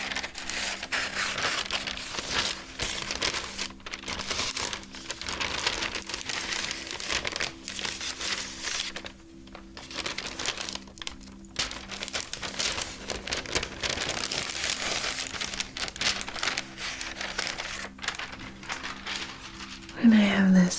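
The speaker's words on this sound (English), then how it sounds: "I have some wax paper." Wax paper crinkled and handled up close in a soft-spoken ASMR session, a continuous crackling rustle with patter-like texture running throughout, briefly quieting twice, with a voice speaking near the end.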